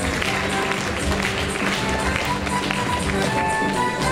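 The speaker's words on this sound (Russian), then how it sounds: "Под ваши аплодисменты." An audience in Barnaul claps at a 2014 cup event as people are invited onto a stage, with dense, steady applause throughout and faint music tones underneath.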